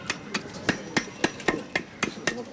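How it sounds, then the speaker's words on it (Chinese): A hammer taps the hardened plaster seal on the mouth of an unopened clay jar of Kuaijishan yellow rice wine, striking about ten sharp, evenly spaced knocks at close range with no talking. "坛口都用石膏密封，拿了一把锤子开始敲"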